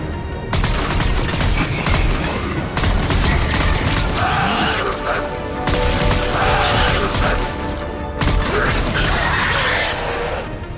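Bursts of gunfire from a Mass Effect Legendary Edition firefight, loud and continuous, with rattling mechanical clatter and several sharp breaks and restarts over about ten seconds.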